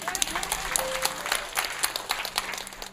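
Applause from a church congregation during a pastor's sermon, a dense wash of clapping with crowd noise and a voice mixed in, steady and moderately loud throughout.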